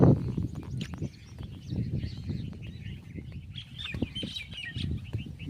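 Birds chirp and call outdoors beside farm fields after two days of rain, high twittering scattered throughout with a busier burst of calls near the end, over a steady low rumble of wind.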